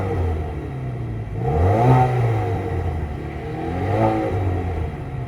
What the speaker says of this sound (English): you get these exhaust tips that produce this sound